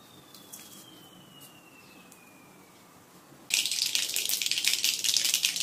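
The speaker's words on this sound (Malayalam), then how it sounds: "കടുക് പൊട്ടിക്കഴിഞ്ഞു." Mustard seeds splutter in hot coconut oil, a sudden dense crackling that starts partway through and keeps going loud and close. The moments before are quiet except for faint background noise.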